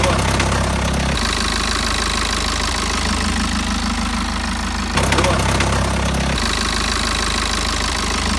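A BMW 5 Series diesel engine idles with a steady, loud clatter and rhythmic knocking from a worn timing chain, its tone shifting briefly as the revs change.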